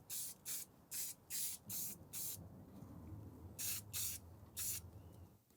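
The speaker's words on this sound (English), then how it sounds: "I'll prime this and we'll prime that crossguard and then we can paint it" Spray primer hisses in short bursts onto a Nazgul sword prop from Lord of the Rings, about nine sharp, close, loud blasts of roughly half a second each with quiet gaps between them.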